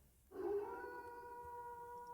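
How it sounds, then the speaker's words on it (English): A single long, drawn-out wolf-like howl sound effect starts abruptly and holds steadily for about two seconds at a modest level, played during a Grim Hollow tabletop game session. "I heard the howl this time"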